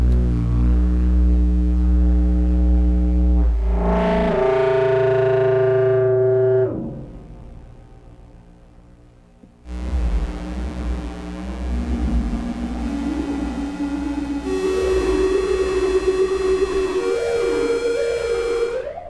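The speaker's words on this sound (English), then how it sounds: "we can get it into self-modulation mode, which means that the audio output is kind of coming back into itself" Synthesizer driven into self-modulation, its output fed back into itself, with distortion: dense buzzing harmonic tones that swell and glide, drop out briefly, then return with rising, warbling pitches, loud and alone.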